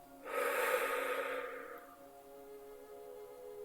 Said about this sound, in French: Expirez.